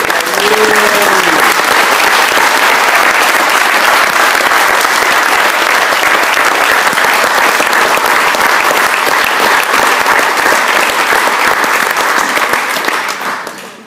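An audience at the Imp50 car club gathering in Coventry, UK gives a long, loud round of applause. The clapping stays full and continuous for over ten seconds, then fades out.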